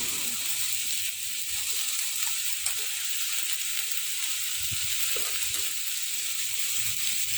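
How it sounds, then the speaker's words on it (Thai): Steady, bright sizzling and hissing as Chinese cabbage and crispy pork are stir-fried in a pan, with occasional soft clinks and stirring scrapes, close and continuous, no voices. "แล้วเราก็จะคนผัด ให้เข้ากันนะคะ"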